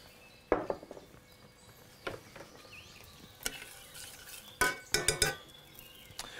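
A spoon stirring a currant chutney sauce in a pan, giving quiet scattered clinks and scrapes against the metal, with a few sharper knocks near the end. Close and soft, no voices.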